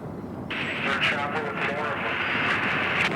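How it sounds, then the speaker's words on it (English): A chopper carrying armed federal agents during the Waco siege roars steadily and loudly throughout, a continuous rotor-and-engine drone that swells in after the first half second. "Another chopper with more people and more guns going on."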